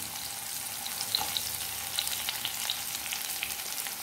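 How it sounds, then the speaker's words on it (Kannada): Large onion chunks for chilli paneer fry in hot oil, a constant close sizzle with a few small pops and light stirring ticks. "ದೊಡ್ಡ ಈರುಳ್ಳಿಯನ್ನು ಕಟ್ ಮಾಡಿಟ್ಕೊಂಡಿದ್ದೇನೆ"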